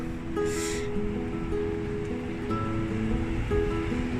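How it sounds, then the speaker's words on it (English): Ocean surf rolls in steadily on Kesanapalli beach near Razole in Andhra Pradesh, India, a continuous wash of waves with faint tonal sounds riding over it. "Today we are at this Kesanapalli beach. This is a beach that is close to Razole."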